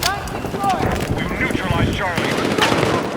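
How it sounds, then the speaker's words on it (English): Gunfire in Battlefield 6: rapid, rattling automatic bursts mixed with scattered shots over a dense, busy battlefield background, with a voice talking over part of it. "I can still hear the shooting over there, so I'm looking for it."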